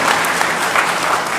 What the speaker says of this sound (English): round of applause for our great president, Northern Essex